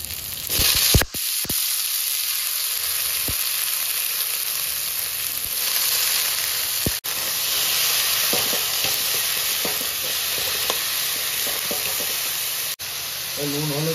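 Vegetables frying in spiced oil in a pan give a loud, steady sizzle and hiss throughout, broken by a few sharp knocks and scrapes of stirring.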